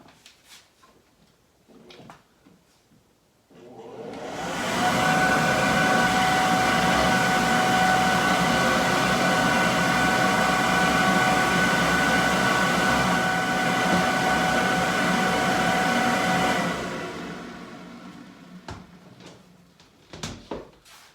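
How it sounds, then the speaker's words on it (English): A new dust collector starts up and pulls sanding dust off a finished elm console table with a loud, steady roar that holds for about twelve seconds before winding down to quiet workshop noise. "I'm going to suck it off with the new dust collector."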